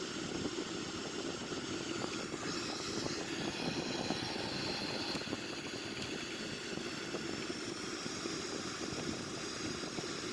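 Steady, even roar of a Sukhoi-30M2 jet's engines at idle thrust during an approach toward a runway, a continuous broadband drone with no voices.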